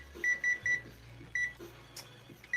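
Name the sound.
kitchen timer being set for cooking noodles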